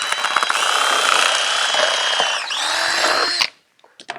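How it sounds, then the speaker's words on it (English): Power drill with a bit boring holes down through a stacked set of plastic cups, a loud, steady high-pitched whine with grinding texture lasting several seconds, briefly dipping in pitch midway, then stopping abruptly with a few small clicks after. "all we have to do is drill a hole"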